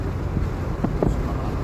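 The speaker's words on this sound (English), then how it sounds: "you do get a bit of wind noise over the B-pillar sections of the convertible top" Wind rushes over the B-pillar of a Mazda MX-5 G20 roadster's convertible soft top at speed, a loud, steady broadband roar mixed with engine and road drone and a couple of faint thumps.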